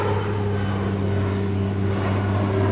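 Embraer regional jet with CF34 engines at Chicago O'Hare, a steady engine roar with strong low droning tones and a thin high whine, continuous and fairly close.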